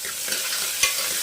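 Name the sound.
onion frying in pan with mustard seeds, cumin, curry leaves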